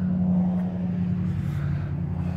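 A fairly new pickup truck's engine idles in a low, steady rumble as it pulls over, close and continuous, with no talking.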